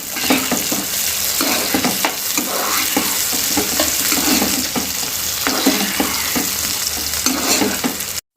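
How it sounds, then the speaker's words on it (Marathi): Chopped tomatoes stirred through hot oil in a frying pan while making vermicelli upma, a steady loud sizzle broken by repeated scraping of the spoon across the pan, with no talking. "त्यानंतर आपण त्यात टोमॅटो टाकूया आणि मिक्स करूया"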